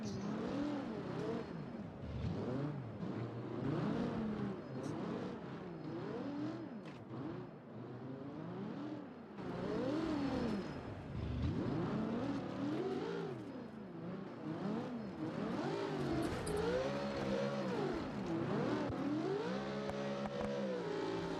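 A 4x4 truck engine revs and strains in the Ultra Sim Racing game on a custom off-road course, rising and falling in repeated surges of throttle as the truck climbs ledges, steady and unaccompanied by talk.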